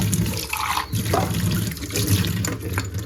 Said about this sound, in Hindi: अब इसमें थोड़ा सा ना पानी डालूँगी